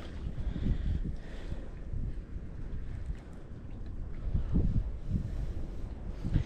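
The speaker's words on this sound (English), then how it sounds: "There it goes. There's that wind." Steady wind gusting over saltwater mangroves on a southern shoreline, a continuous low rushing roar with some microphone buffeting that swells and eases across the whole stretch, with no talking.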